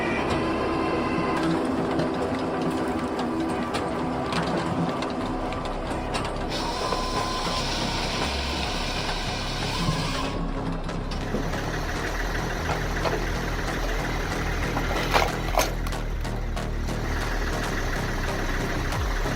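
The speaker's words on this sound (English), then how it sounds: "17K F machine quickly and efficiently processes wood into firewood" A Grohe 17K F firewood processor runs without pause, giving a loud, dense mechanical clatter of ratcheting gears, knocking and engine drone, with sharper clanks as the wood gets processed.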